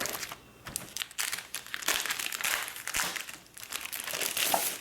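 Sheets of a 12x12 double-sided paper pack from a craft kit rustle and crinkle as they are handled, with continuous close crackling and soft swishes in irregular bursts and no speech.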